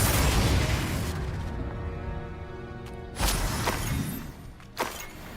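A Confringo spell explosion from the Hogwarts Legacy video game lands with a heavy booming burst and shattering crackle, followed by a second smaller impact, loud against a dense game soundtrack.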